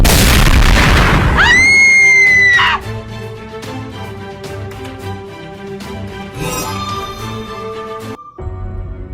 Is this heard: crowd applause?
no